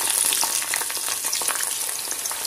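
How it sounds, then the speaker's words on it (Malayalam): Jackfruit chips frying in hot coconut oil over a low flame, a steady close crackling sizzle with dense popping bubbles that runs alone throughout. "വെളിച്ചെണ്ണ നന്നായിട്ട് ചൂടായി കഴിഞ്ഞിട്ട് നമ്മൾ ചക്ക ഇട്ട് കൊടുക്കുമ്പോഴല്ലോ ലോ ഫ്ലെയിമിലാക്കിയിട്ട് വേണം ചക്ക അതിലേക്ക് ഇട്ട് കൊടുക്കാൻ"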